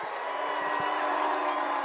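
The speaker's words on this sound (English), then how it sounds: "They're not booing, they're shouting Luke" A large crowd at a World's Strongest Man strongman contest keeps up a sustained, far-off roar of shouting and cheering, a dense, even wash of voices.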